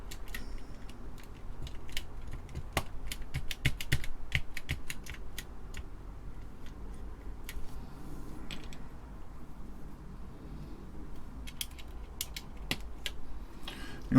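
Keys clacking on a restored TeleVideo TVI-912C terminal keyboard under test, with irregular bursts of sharp close key presses separated by short pauses and faint mechanical rattles, no voices.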